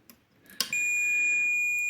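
Steady continuity beep from a multimeter probing a capacitor in a Rocksine RS 1500 inverter under repair, starting after a brief probe click and holding loud and unbroken for over a second.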